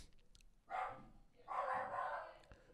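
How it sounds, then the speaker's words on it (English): A pet dog gives two short barks, the first brief and the second a longer drawn-out woof, moderately close in a quiet room with nobody talking. "My dog barking. My pup woofing."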